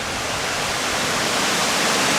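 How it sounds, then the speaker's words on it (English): Steady, loud roar of a large waterfall on Scotland's north coast, a continuous broadband rush of falling water heard alone with no voices. "There's the waterfall."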